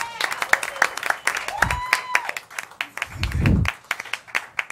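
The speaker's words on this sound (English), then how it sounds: "A round of applause" Audience at an anniversary show claps for a guest arriving, scattered sharp hand claps mixed with cheers and talking voices, uneven and lively rather than a solid wash.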